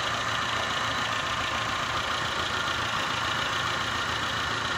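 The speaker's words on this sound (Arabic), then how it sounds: "يعني المحرك راهي دايرة صافي صافي." A Renault 1.4 petrol car engine idles steadily after a spark plug change, an even mid-pitched hum with a faint rhythmic ticking heard up close and without any talk.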